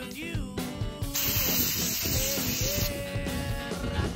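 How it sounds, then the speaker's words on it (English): A can of WD-40 bike degreaser gives a sharp, loud hissing spray burst of about two seconds. Clinks and handling noise come before it and a fainter hiss follows, all close up. "trying the WD-40 bike degreaser"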